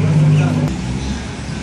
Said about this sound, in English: As you can see, lots and lots and lots of traffic